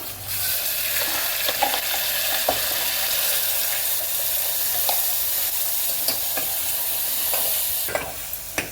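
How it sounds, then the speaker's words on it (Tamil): Ground coconut masala paste with onion, tomato, ginger-garlic, fennel and poppy seeds fries in a pan, a loud continuous hiss and sizzle with scattered scraping stirs close up. "இது நல்லா பச்சை ஸ்மெல் போகிற வரைக்கும் நல்லா வதக்கிக்கலாம்."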